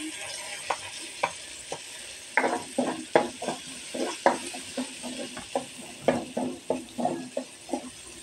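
Garlic sizzles in hot oil as it is stir-fried for shrimp with kangkong, with a steady frying hiss broken by repeated scraping stirs of the spatula in the pan, up close.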